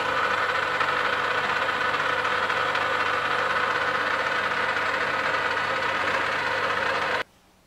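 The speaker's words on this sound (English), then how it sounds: "So now it's time to put the 1 inch reamer through." A 1 inch adjustable reamer cutting a hole on a lathe gives a steady, dense mechanical hum and rumble, constant and close for about seven seconds before cutting off abruptly.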